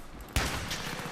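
A sharp, loud gunshot from Battlefield 3 cracks out of a near-quiet start, then a dense rattle of further fire and explosions trails on steadily.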